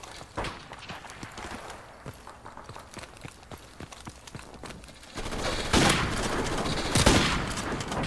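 Gunfire from Call of Duty Modern Warfare Remastered, rapid bursts of shots rattling in quick succession against game background noise, growing denser and louder in the second half with a couple of heavier blasts.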